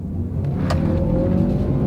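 A turbocharged EcoBoost crossover SUV accelerates, its engine a steady, close, low rumble that holds at an even level throughout, with no voices over it.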